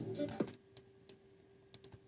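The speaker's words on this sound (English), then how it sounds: "right here we can add like a typewriter sound effect" Scattered, sharp clicks in the style of a typewriter sound effect, a few separate ticks spaced across the moment after a lower tonal blip, dry and close with no voices.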